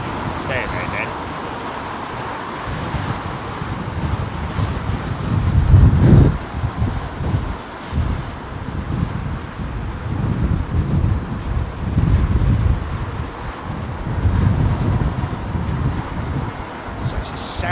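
Strong gusty wind buffets the microphone at London Heathrow Airport, a continuous low roar that swells and eases, with distant aircraft noise beneath and no voices.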